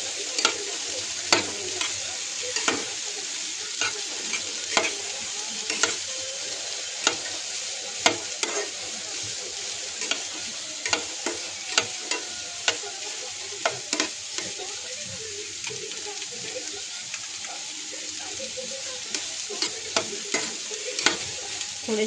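Vegetables for white sauce pasta sizzle steadily in a pan while a spoon stirs them, with frequent sharp scraping clicks over a continuous hiss, close and alone without any voices.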